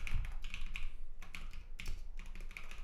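Typing on a computer keyboard in a cold room, with soft, close key taps coming in irregular clusters and short pauses, quiet and without voices.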